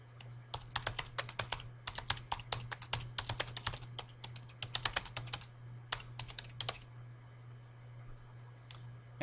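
Fingers type a forum thread topic on a computer keyboard, quick bursts of crisp clicking keystrokes with brief pauses, close and fairly quiet over a low steady hum.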